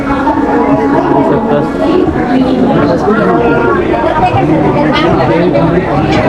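Dense crowd chatter fills a packed Janshatabdi express train running from Dadar toward Kankavli, many overlapping voices forming a steady, close hubbub with no pauses.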